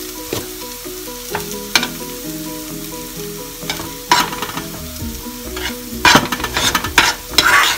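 Moong dal halwa stirred in a pan as sugar is mixed in, a continuous sizzle broken by repeated scraping and clattering strokes that grow busier and louder toward the end.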